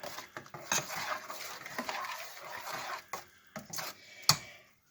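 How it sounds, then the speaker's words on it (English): A spoon stirs chopped onions into a pot of hot dog chili sauce, producing irregular scraping, wet stirring and clinks against the pot, with one sharp knock near the end, close and fairly quiet, without speech. "There's the onions. Stir it in good."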